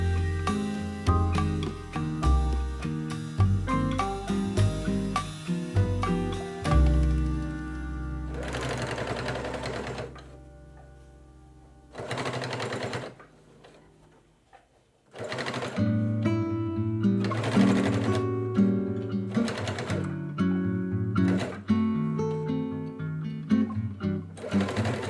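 A sewing machine stitches across the flap of a quilted weekender bag, running in close, loud bursts of rapid needle clatter that stop and start with a few quiet pauses.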